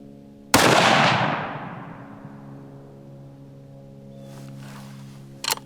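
A single loud gunshot from an Ultradyne 6.5 precision rifle, a sharp blast with a long decaying boom echoing outdoors, followed by a faint metallic click near the end.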